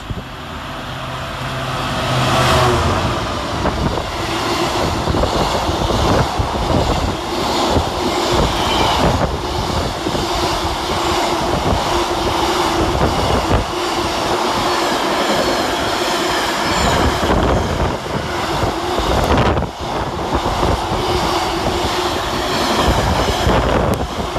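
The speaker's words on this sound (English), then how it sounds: "Another freight train for you all now in the form of 66244" Class 66 locomotive 66244 hauling a freight train from Trafford Park Euro Terminal to Southampton Western Docks through Burnage railway station, a loud, steady rumble with clattering wagon wheels sustained throughout the passing, with no talk.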